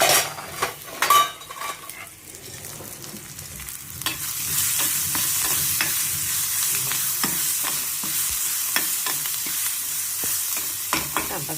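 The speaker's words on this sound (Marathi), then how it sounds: "कांदा चांगला भाजायचा आहे." Onion frying in a pan gives a bright, steady sizzle that swells after a few seconds, under repeated metal clinks and scrapes of a spoon stirring against the pan.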